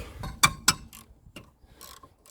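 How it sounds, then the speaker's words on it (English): A 14mm socket ratchet loosening the brake caliper carrier bolts on a Honda Civic during a disc and pad replacement, giving two sharp close clicks followed by several fainter ratcheting ticks and small metallic knocks. "you get a size 14mm socket for the carriers"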